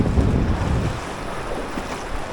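Waves break and wash over a shallow reef, a broad rushing surf sound with heavy wind buffeting the microphone, strongest at the start and easing off.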